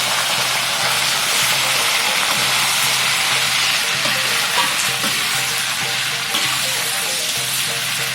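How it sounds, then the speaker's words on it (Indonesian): Spice paste for seasoned chicken fries in a pan, a loud steady sizzle with scraping and stirring sounds running continuously throughout, close and without talk. "Bumbunya kita goreng sampai menguning. Kita tunggu, kita kacau terus sampai kuning."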